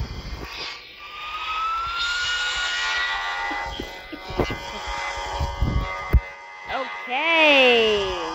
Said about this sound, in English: Let's take off.